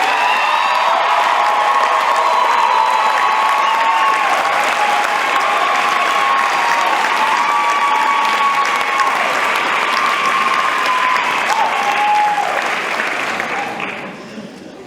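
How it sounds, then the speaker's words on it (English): At a high school graduation ceremony for the CREC Academy of Aerospace and Engineering, a large crowd claps loudly with scattered cheers and whoops for a long stretch, dropping off sharply at the very end. "could we just give a round of applause to all the immigrants in this room?"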